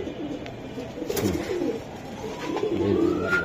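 Racing pigeons coo close by in a low, throaty, rolling murmur that continues throughout and swells slightly toward the end.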